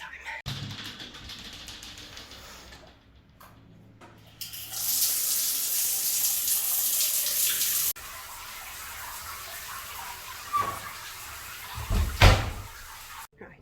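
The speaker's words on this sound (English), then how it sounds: "Shower time." Broadband rush of a running shower in a bathroom, starting after some softer handling and door noises, holding steady for several seconds, then changing tone as the spray shifts, with a few knocks near the end.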